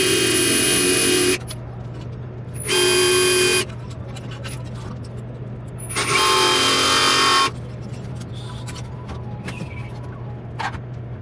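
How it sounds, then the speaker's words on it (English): An air hammer works at rusted floor supports on a 1965 Mustang, firing in three loud, sustained bursts of about a second each, with a steady low hum in the gaps between. "Maybe I was going to leave them like that and just going to use air hammer"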